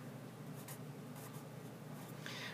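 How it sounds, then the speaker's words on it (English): A pencil scratches across quadrille paper while a diagram is drawn, a faint soft scraping with a few brief stroke bursts, close and quiet with no talking. "I'm going to just actually draw this diagram"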